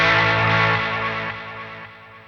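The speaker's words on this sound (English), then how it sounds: "that modulation, that very fast modulation, is also in the repeats of my delay" An electric guitar sound through a chorus pedal set to fast modulation feeds into a delay, leaving a loud, warbling, slightly distorted wash of repeats that slowly fades with no talking.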